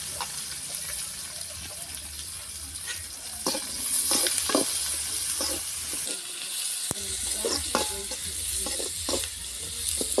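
Chopped onions sauté steadily with salt in a hot pan, with scraping stirs and clinks of a utensil over a constant frying hiss; no one speaks.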